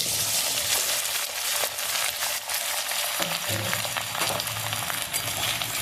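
Potatoes and drumstick pieces fry in hot oil with mustard seeds, a steady loud sizzle with scattered pops and a few stirring clatters throughout.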